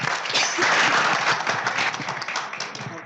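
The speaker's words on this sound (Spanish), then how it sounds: "Pues un aplauso, por favor." An audience claps together after a presentation at a medical society session, steady dense applause filling the room for a few seconds.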